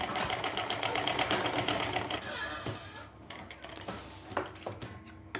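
A sewing machine stitches a seam on a ladies' pant, running in a fast steady rhythm up close, then slowing and stopping, with someone speaking briefly over it.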